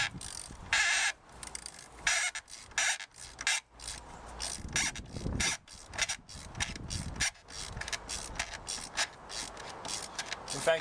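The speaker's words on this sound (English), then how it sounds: "connect your ratchet, and start loosening" A hand ratchet loosens throttle body bolts on a Jeep Grand Cherokee 3.7L V6, giving repeated bursts of rapid close-up clicking in an uneven rhythm, with some rubbing and metal handling between the strokes.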